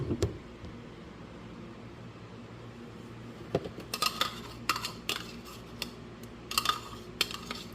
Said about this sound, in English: I'll get my spoon and scrape all of that out for her